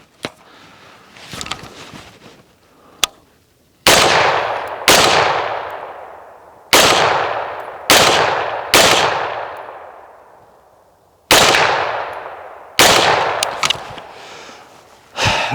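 Suppressed shots from a Smith & Wesson M&P rifle fitted with a Silencer Co. Velos suppressor and a GVAC upper, six sharp reports at irregular intervals, each trailing off into a long ringing decay, with faint handling noise before the first.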